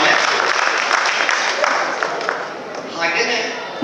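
Audience applause for a singer at a devotional program held by a temple service trust, a dense continuous wash of clapping throughout, moderately loud and gradually thinning toward the end.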